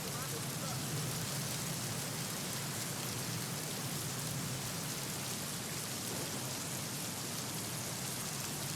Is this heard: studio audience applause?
no